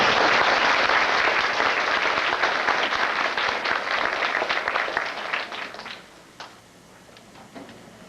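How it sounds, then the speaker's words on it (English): Graduation ceremony audience breaking into loud, dense applause from many hands, which holds steady and then thins to a few scattered claps near the end. "Let's give them a round of applause."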